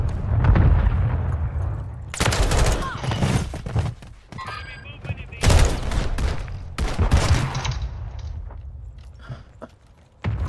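Mortar strikes landing in Call of Duty Modern Warfare 3 hardcore team deathmatch, several loud booming explosions in bursts with gunfire between, and a player's voice talking intermittently.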